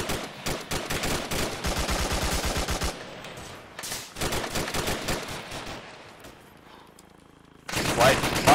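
Automatic rifle fire lays down cover in the Arma 3 military game: loud, rapid bursts repeat with brief gaps, then a quieter stretch before a final heavy burst.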